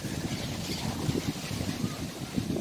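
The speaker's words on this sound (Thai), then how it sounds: "โอ้โหลมนะลมแรงมาก" Strong, gusty wind buffets the microphone on a cold morning in a canal-side garden at Sattahip, a steady low rumble with irregular surges throughout, no voices.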